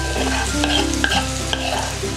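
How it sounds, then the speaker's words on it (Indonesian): Ground spice paste sizzles and crackles in frying oil in a pan over low heat while being stirred, a close, continuous fry with small scraping stir sounds and no talk. "Kita tumis sampai benar-benar wangi."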